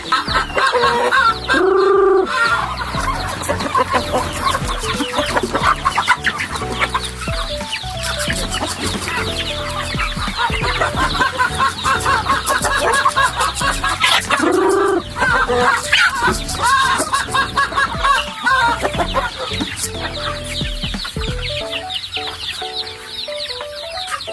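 Chickens cluck continuously and loudly at close range, with overlapping calls and occasional louder squawks over a busy farmyard background.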